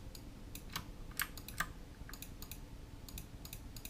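Typing on a GMMK 104 RGB modular mechanical keyboard with Gateron switches, a quiet run of crisp, irregular key clicks with a few sharper, louder presses, close and alone.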